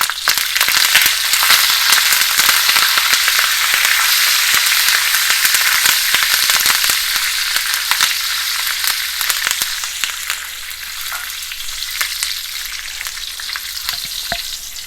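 Fresh curry leaves hit hot oil in a pan for chickpea sundal, bursting into a loud, crackling sizzle with rapid pops that gradually settles to a steadier, softer fry.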